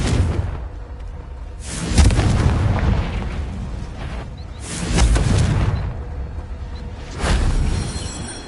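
Confringo fire spells explode in Hogwarts Legacy, three heavy booming blasts spaced a few seconds apart, each with a deep rumbling tail.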